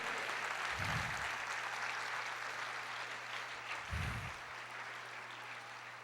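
A church congregation applauds during a sermon, giving a steady, distant wash of many hands clapping that holds evenly throughout, with two brief low thumps along the way.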